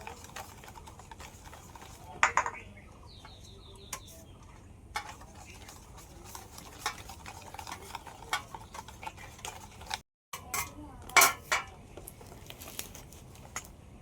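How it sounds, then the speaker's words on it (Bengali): A flour mixture is folded into mango cupcake batter, giving quiet, close stirring and soft tapping of utensil against bowl, with a few louder clacks and a brief pause midway. "এই ময়দার মিশ্রণটা এবার আমি অল্প অল্প করে দিয়ে দেবো আর এইভাবে মিশিয়ে নেবো"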